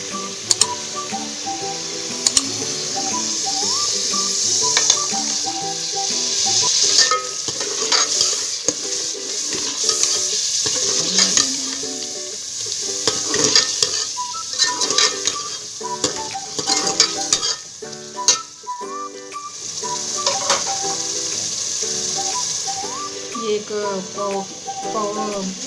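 Half a kilo of chicken sizzles and fries in spiced masala while it is stirred, with a steady frying hiss and recurring clinks and scrapes of a utensil against the pan throughout, close and fairly loud.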